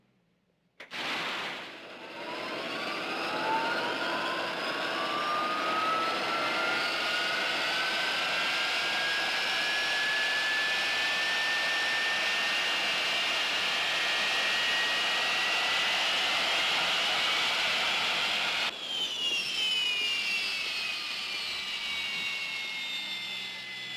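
A jet aircraft engine spools up from silence, its rising whine climbing steadily and settling into a loud, sustained roar that holds for about fifteen seconds, then shifts abruptly near the end with a fresh descending whine layered over the steady engine noise.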